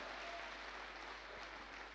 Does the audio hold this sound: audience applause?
yes